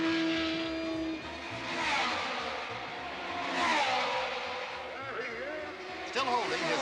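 Open-wheel race cars at the 1965 Indianapolis 500, engines whining loud and high, rising and falling in pitch as they sweep past in turn, with a voice speaking over the roar.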